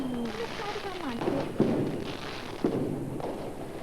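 Fireworks rockets on Bonfire Night go off in the distance, giving a rising whistle followed by a couple of dull booming bursts, with voices chatting close by throughout.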